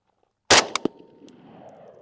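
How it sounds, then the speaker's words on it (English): Steyr AUG rifle fires at steel targets outdoors: one loud sharp report followed by two quick metallic impacts, then a lingering rumbling echo tail with no voices. "Let me just shoot the steel out there."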